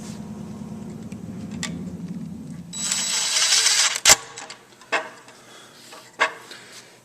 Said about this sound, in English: that little screw is just going to go through the hole there, and we'll just suck it down